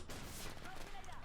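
Gunfire in the Global Operations video game, a dense burst of shots that runs steadily through the short moment, with a voice talking over it.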